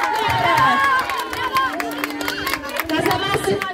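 Primary school children in a class applaud their classmates, a burst of scattered clapping mixed with excited chatter and cheering, with an adult voice speaking over the noise.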